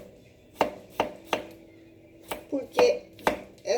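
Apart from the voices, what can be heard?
chopping vegetables with a knife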